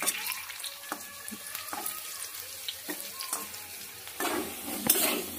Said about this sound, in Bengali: দেখো আলুটা হালকা লাল লাল করে ভাজা হয়ে গেছে।